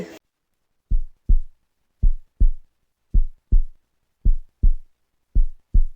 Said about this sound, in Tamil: ஸோ இப்போ ஜெயோப்போட ஹார்ட் பீட் எப்படி தெரியுமா அடிக்குது